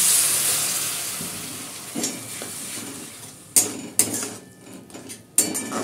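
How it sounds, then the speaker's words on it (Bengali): Spice paste for a Bengali fish roe dish fries in a pan with a steady soft sizzle, broken by a few sharp clinks of a spoon or spatula against the pan near the end. "মশলাটাকে এখন আমি কষিয়ে নিচ্ছি"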